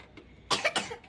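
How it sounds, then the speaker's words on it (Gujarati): Two or three quick, close coughs burst out in a tight cluster after a brief quiet moment. "ઉધરસ આવી જાય"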